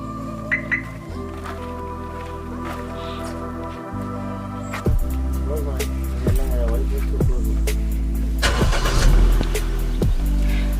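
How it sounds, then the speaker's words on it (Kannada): A car engine starts partway through, shifting from a steady low hum to a louder, fuller idle with a few clicks and bumps. Birds call faintly in the background. "ಎಂಜಿನ್ ಸ್ಟಾರ್ಟ್ ಆಗಿ ಒಂದ್ಸರಿ ಸ್ಟೇರಿಂಗ್ ಮೇಲೆ ಕೈ ಇಟ್ಟಾಗ"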